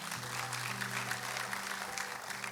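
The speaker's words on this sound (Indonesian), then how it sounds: "Beri tepuk tangan kemuliaan dulu buat Tuhan." A church congregation claps in praise during a service, a continuous wash of applause with a low sustained musical hum beneath it.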